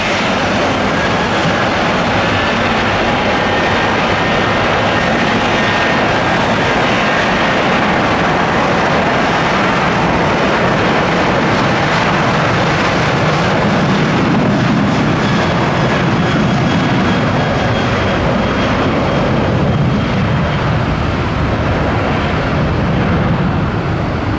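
An airliner taking off at dawn from Tampa airport: a loud, continuous roar of jet engines dominating throughout, steady and broad with a slow swell in intensity, no voices.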